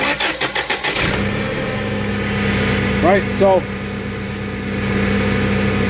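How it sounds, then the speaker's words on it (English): A car engine with its throttle body disconnected cranks with several rhythmic starter pulses, catches and settles into a steady, loud idle, with a brief voice heard over the running engine. "the engine should start up, and I'll do that right now."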